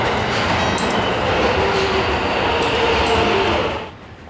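Commuter train ride home in Japan, a roughly ten-minute trip: a steady, loud onboard rumble of wheels and carriage with a faint thin squeal running through it, cutting off abruptly near the end.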